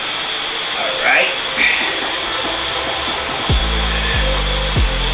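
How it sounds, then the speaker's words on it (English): An air compressor runs with a steady hiss and whine beside a car engine bay, then gives several loud, rhythmic low thumps near the end. People talk over it. "compressor, I'm leaking here"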